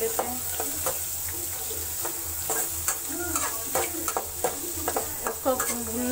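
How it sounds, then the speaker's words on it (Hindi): Rava roasts with vegetables such as carrot in a pan for upma, with loud, rhythmic scraping and stirring strokes over a constant close sizzle, and no talking. "इसको भुनने देंगे थोड़ी देर के लिए, 5 मिनट तक पकाना है इसको।"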